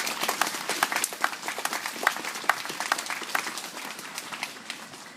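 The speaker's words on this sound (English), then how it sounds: "Let's give them a round of applause" A crowd gives steady applause at a play area opening ceremony, many hands clapping in a dense, even patter with a few sharper claps standing out, continuing throughout with no talking.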